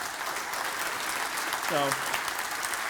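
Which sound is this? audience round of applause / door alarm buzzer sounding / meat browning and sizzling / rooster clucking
audience round of applause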